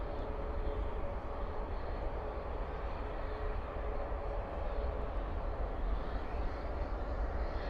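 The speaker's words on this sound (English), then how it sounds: "Spoilers up, reversers out. I'm at A321 Neo." An Airbus A321neo rolls out after landing at night at Dallas Fort Worth airport with spoilers up and reverse thrust, a steady distant roar of broadband engine noise holding evenly throughout.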